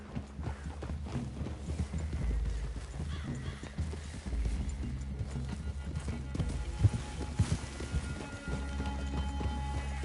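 Horses walking in the video game Red Dead Redemption 2, rhythmic hoof clip-clop on ground with occasional snorting and a whinny, moderately close against quiet outdoor ambience.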